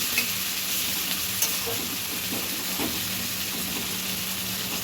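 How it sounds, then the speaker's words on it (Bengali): Seeded tomato pieces fry lightly in a pan for a fish kalia, with a steady close hiss and sizzle and a few soft stirring scrapes, no talking. "হালকা একটু ভেজে নেব।"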